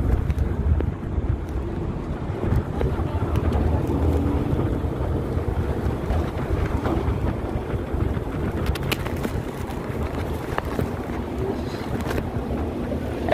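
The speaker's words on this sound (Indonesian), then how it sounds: "Enak banget anginnya." Wind blows outdoors at Goa Pindul in Gunung Kidul, a constant low rumbling roar of gusts buffeting the microphone, with no clear voices.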